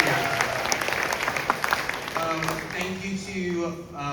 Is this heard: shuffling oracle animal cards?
no